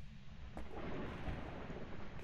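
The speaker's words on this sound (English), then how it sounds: "It doesn't help that it's actually thundering right now." Low rumbling thunder rolls through a continuous dark wash of noise, loud and steady for a couple of seconds, with no voices over it.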